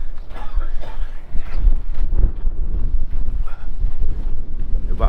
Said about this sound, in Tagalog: sipol lang hangin dito